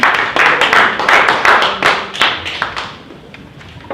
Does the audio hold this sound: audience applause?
yes